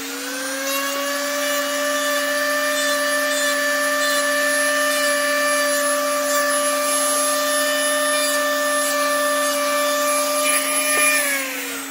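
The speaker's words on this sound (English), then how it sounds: "with my Dremel." A Dremel rotary tool smooths the edge of a Kydex knife sheath, producing a continuous, high, steady whine with a slight grinding rasp, close and loud for the whole stretch with no talk.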